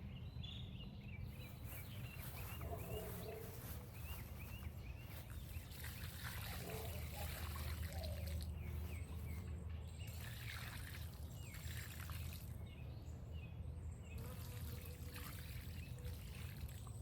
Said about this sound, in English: let me go and put some water down in there.